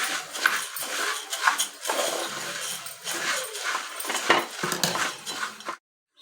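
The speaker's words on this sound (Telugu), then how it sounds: "ఇప్పుడు ఇందులో మరమరాలు వేసుకోవాలి. ఇప్పుడు బాగా కలుపుకోవాలి." Puffed rice masala mixture is tossed and mixed in a bowl, giving dense, continuous rustling and clinking scrapes at close range that stop abruptly at the end.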